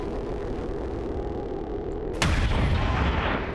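A single heavy gunshot cracks out in the turn-based tactics game XCOM 2, a sharp loud report breaking over a steady low ambient hum and ringing briefly into a rumbling tail.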